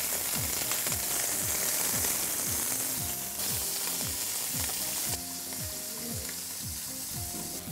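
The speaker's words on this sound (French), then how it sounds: "Donc dans un sautoir ou une poêle, on va rajouter une partie de l'huile d'olive." Veal saltimbocca fries in olive oil in a sauté pan, giving a steady loud sizzle with repeated scraping and stirring ticks throughout.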